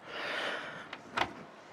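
A storage door opening inside the kitchen of a Wingamm camper, with a faint click near the start and a short, close rattle and thump of the door moving, set against a steady low room hiss.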